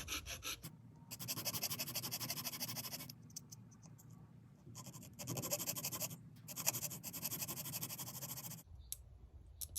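A hand saw rasps through wood, cutting extra cross-hatch marks while shaping a bentwood ring, in several bursts of steady back-and-forth scraping separated by short pauses, close up and fairly quiet with no talk.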